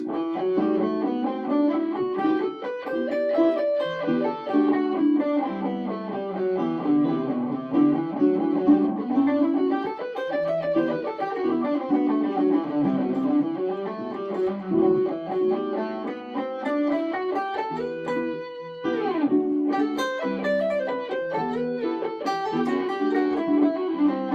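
An electric guitar with distortion plays the E natural minor scale up and down in repeated runs, each note distinct, with no talking.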